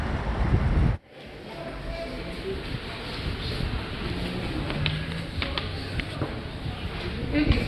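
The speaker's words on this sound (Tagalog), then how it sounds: "Lakas ng hangin. Lakas ng hangin dito." Steady, loud, cold wind buffets the microphone outdoors in Korea, a continuous rushing roar with a brief dropout near the start and a voice talking over it.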